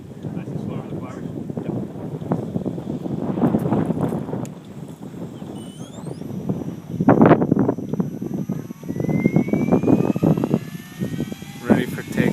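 A Sky Golf helicopter lifts off near a golf clubhouse, its rotor and turbine noise rising and falling in surges with a whining turbine tone, mixed with wind buffeting on the microphone.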